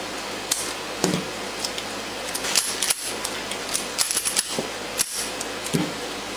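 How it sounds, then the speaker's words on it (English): A Kel-Tec P3AT pistol being cleared indoors, with a series of sharp close metallic clicks and clacks from the slide and action, spaced irregularly over several seconds and with no talking. "first thing you gotta do is clear your gun"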